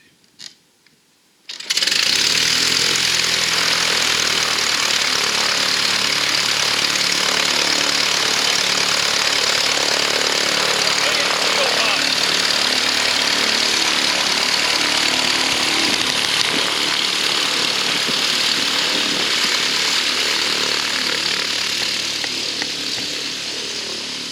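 A 1977 Bowers Flybaby light aircraft engine catches after a couple of faint clicks and settles into a loud, steady, close-up buzzing idle that continues uninterrupted.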